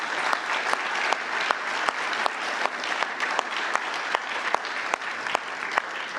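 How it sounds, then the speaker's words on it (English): Applause at a NATO Women, Peace and Security reception: a room full of guests clapping steadily, with crisp individual claps from nearby hands standing out against the background clapping. "You can clap for that"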